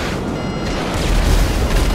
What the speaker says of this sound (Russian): Ух, все взрывается.